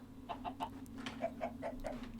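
Chickens clucking in a series of short, mid-pitched calls, moderately close, over a steady low hum of background noise.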